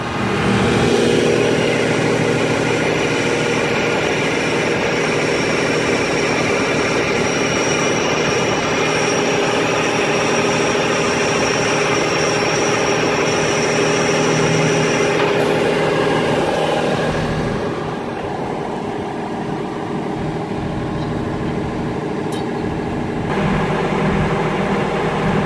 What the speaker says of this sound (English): Start the machine, turn the switch on, and lower the counterweight.